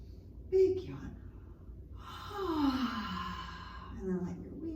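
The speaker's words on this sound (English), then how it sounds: "big yawn" A person yawns, a long drawn-out breathy exhale that rises and falls for about two seconds in a quiet indoor kids' yoga session, with a brief breath before it.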